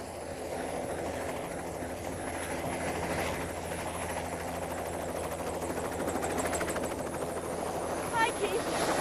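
Helicopter flying along a river in the Scottish Borders, a steady rotor and engine drone heard from inside the cabin, with people talking over it throughout.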